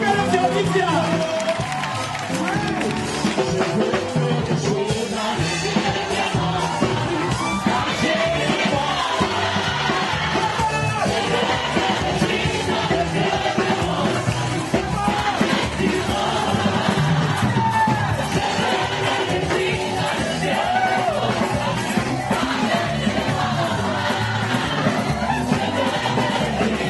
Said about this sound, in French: On applaudit le roi des rois.